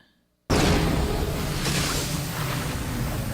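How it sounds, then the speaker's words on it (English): A sudden loud explosion erupts in a fantasy action movie after a near-silent moment, then rolls on as a dense roaring rumble of debris and fire that slowly eases off. "Oh, explosion."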